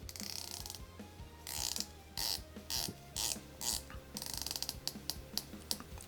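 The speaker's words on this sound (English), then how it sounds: "No play in that bezel. Sounds excellent. Feels really good. Very solid, loud clicks." Heimdallr 62MAS Shark homage automatic dive watch bezel being rotated, giving close, loud, crisp ratcheting clicks in quick bursts separated by short pauses.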